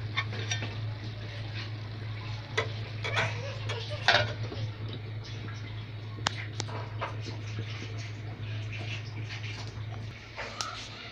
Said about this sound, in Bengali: শুটকিটাকে ভাজা ভাজা করে নিব